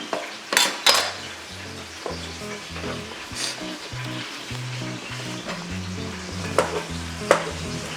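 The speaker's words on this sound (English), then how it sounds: "Now that the grease is dancing around and jumping" Minced garlic frying in hot, spattering grease in a pan: a loud, steady crackling sizzle throughout, with a few sharp utensil clinks against the pan.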